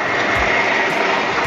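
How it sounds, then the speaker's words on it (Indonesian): A GQ40 steel bar cutting machine, just switched on, runs with a steady, loud, dense motor roar and whine. The sound holds constant throughout, with a faint low thump or two underneath. "Nah mesin sudah menyala."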